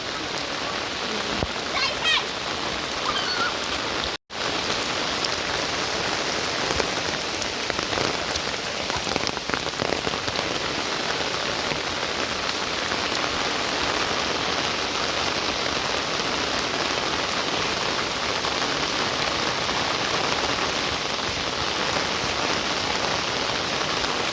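Steady rain pours down in the Bicol countryside of the Philippines, a dense, even hiss of drops on surfaces lasting throughout, with faint background voices now and then.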